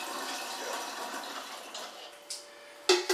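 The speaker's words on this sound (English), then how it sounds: "I'm just gonna fill it to the top with filtered water" Filtered water is poured into a cold brew coffee container, a steady splashing pour that thins out and ends with a few brief clinks near the close.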